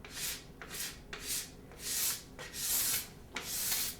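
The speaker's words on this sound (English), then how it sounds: "just scraping in a series of small passes" A scraper drawn along a ski from tip to tail in a series of short, rhythmic passes, each a close, breathy rasping stroke separated by brief pauses, with no talk.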